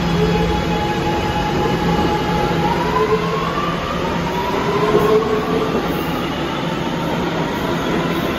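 A new R-211A subway train bound for Lefferts Boulevard in Ozone Park rumbling continuously along the track, a loud steady roar with faint rising whining tones, heard up close from on board or trackside.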